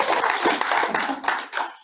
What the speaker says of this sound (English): I usually get that much applause total